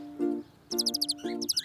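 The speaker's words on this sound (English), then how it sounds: "You're right. Those are birds." Short, bright chirps come in quick rhythmic bursts, repeated a few times, alongside brief lower tonal notes between them.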